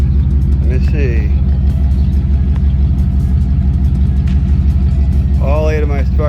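An eight-cylinder car engine runs again after a misfire fault, giving a steady, loud, close low rumble throughout while someone talks briefly over it.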